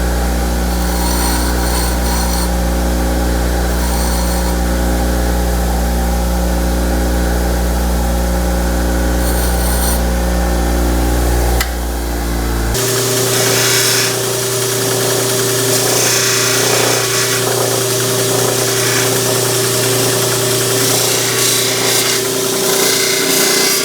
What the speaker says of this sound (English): I'm going to finish this on the grinder and the polisher.